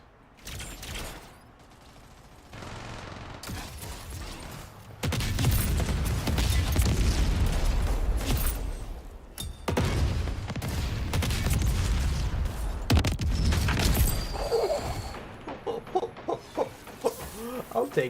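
Rocket explosions in the video game Splitgate 2 burst out loudly in repeated blasts over dense, continuous gunfire and game noise. The heaviest stretches come in the middle, with scattered sharp hits near the end.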